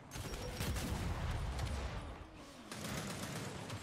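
Rapid gunfire in Gears 5 ranked multiplayer: a dense, fairly quiet stream of overlapping shots that briefly fades and then resumes, with faint voices in the background.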